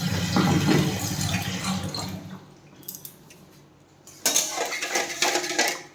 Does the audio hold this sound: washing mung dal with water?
yes